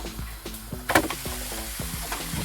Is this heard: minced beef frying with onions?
yes